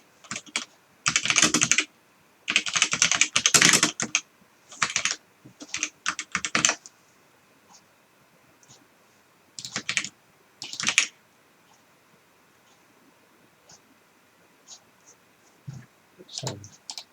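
Someone types code on a computer keyboard in close, loud bursts of rapid key clicks separated by pauses, with sparser isolated taps later on and a few faint background sounds.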